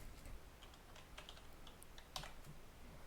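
Quiet tapping on a computer keyboard, a short run of light, irregular key clicks with one slightly louder press near the end, close and alone.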